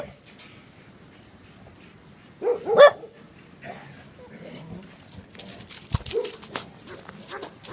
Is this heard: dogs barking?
yes